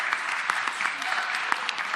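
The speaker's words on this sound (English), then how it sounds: "I want to give another round of applause to the cast" A theatre audience applauds the cast in a steady, dense round of clapping, with sharper individual claps standing out and a voice faintly present beneath.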